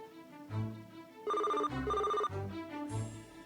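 A telephone rings repeatedly in a mafia drama game scene, with bright electronic ring bursts sounding over an ongoing musical backdrop and no voices.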